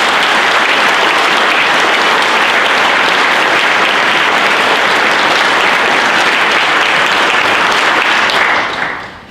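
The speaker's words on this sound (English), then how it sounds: "Let's give him a big round of applause." A large audience gives a loud, sustained round of applause for a soldier at a Salute to the Armed Forces event at Marine Corps Base Quantico, dense and steady before fading out at the end.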